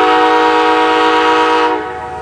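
Amtrak 64 departing Niagara Falls, New York, sounds a loud, sustained horn blast that holds steady before cutting off near the end, leaving a quieter rumble.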